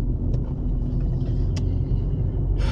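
Steady low rumble of a car driving slowly around a national-interest spa resort, heard from inside the vehicle, continuous and loud, with a few faint clicks and no one talking.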